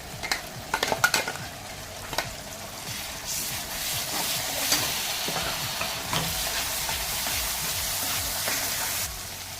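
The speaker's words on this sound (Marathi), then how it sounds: "वाटणसुद्धा छान तेल सुटेपर्यंत परतायचं आहे" Masala paste sautéed in oil for a dried Bombay duck curry: a burst of clattering stirring and scraping at the start, then a loud, steady sizzle that continues close by with occasional utensil knocks.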